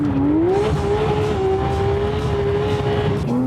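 A loud Porsche GT3 RS engine roars at high revs in open fields, its pitch rising then holding steady before dipping and climbing again, close and sustained.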